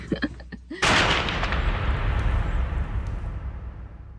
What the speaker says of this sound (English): That sound you're hearing, by the way, is the start of a storm.